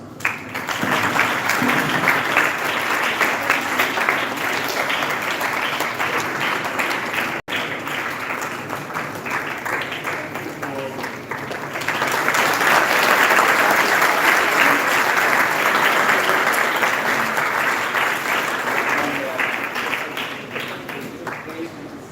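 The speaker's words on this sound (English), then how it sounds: "let us Put our hands together as our principal sir felicitates the chief guest" Audience applauding at a school function as a principal honours a chief guest, sustained loud clapping from a crowd that swells midway and carries on for over twenty seconds.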